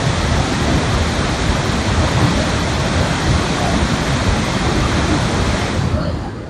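Water rushes through the open gates of Sunkesula dam in a loud, dense, unbroken roar, close and overwhelming, fading slightly at the very end.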